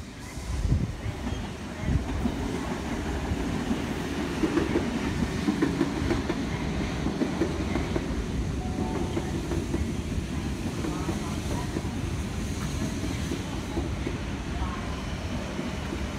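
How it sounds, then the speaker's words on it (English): A Sydney Trains passenger train rumbles steadily past at close range through platform 2 at Redfern Station, with rhythmic clacking of wheels over rail joints and a broad roar that holds throughout. "V11, leading a train through platform number 2."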